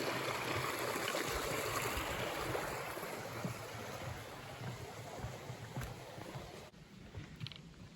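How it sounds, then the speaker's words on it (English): A very small creek on the Appalachian Trail trickles and burbles in a steady, soft wash of flowing water that fades slightly toward the end, heard up close with no voices. "I just filled up at a very small creek, which was the first water source I could find in a while."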